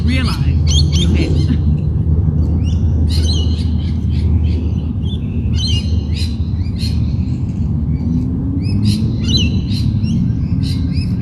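Flock of chickens in flight calling, with scattered chirps, squawks and short tweets repeating throughout, fairly close, over a steady low rumble of wind or motion noise; some talk is mixed in.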